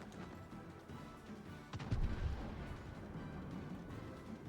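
A warship's gun salvo in the naval battle game World of Warships, a single deep booming blast rolling out beneath a constant low rumble of background noise, fairly faint overall.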